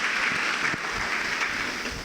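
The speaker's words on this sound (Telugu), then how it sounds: "గట్టిగా చప్పట్లు కొట్టండి, గట్టిగా చప్పట్లు కొట్టాలా." An audience at a church gathering claps together, a dense sustained burst of applause throughout the short moment.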